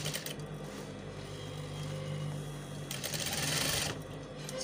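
A sewing machine stitches crinoline onto a peplum, a steady close whirring hum running for a few seconds with a brighter, busier stretch near the end, no voices.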